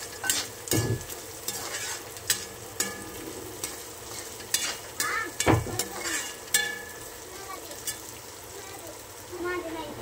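Oil-fried peanuts and peas stirred in a pan for poha, with repeated spatula scrapes and knocks against the pan over a soft frying sizzle, in irregular bursts.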